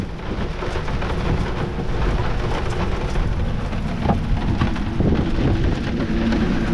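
Heavy rain pounds down in a steady wash on a sailboat at anchor, with gusting wind roaring continuously across the whole stretch; no voices, just a dense, loud storm.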